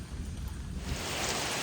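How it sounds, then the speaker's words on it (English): Heavy rain pours steadily on a trail shelter on the Appalachian Trail in New Jersey, a dense broadband hiss that swells louder partway through, with no voices. "It's pouring rain."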